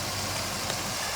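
An old Jeep engine idles down after a repair, producing a steady low rumble at constant loudness, close by and with no voices.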